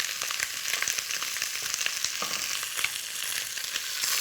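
Pieces of meat fry in a pan at home, a steady bright sizzle with scattered pops and soft scraping as the pieces are turned, close and alone.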